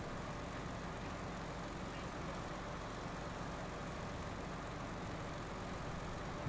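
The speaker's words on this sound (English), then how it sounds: "I'm glad I turned down the engine sounds" A heavy truck engine in SnowRunner drones steadily and loudly throughout, a dense unbroken rumble with no pauses.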